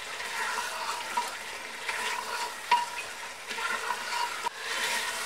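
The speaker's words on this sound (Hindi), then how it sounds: "फ्लेम को हाई कर देंगे दोबारा से और इसको मिक्स कर लेंगे अच्छे से।" Fried chicken is stirred into a pot of nihari over a high flame, a steady sizzling hiss broken by scraping spoon strokes and small clanks, close and continuous with no voices.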